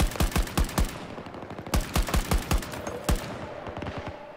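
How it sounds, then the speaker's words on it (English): Gunfire rings out in a Battlefield 2042 match, with a run of sharp, evenly spaced shots that come in bursts. The loud reports are separated by short pauses, and a quieter shot follows near the end. "Oh, dude, there's people sniping."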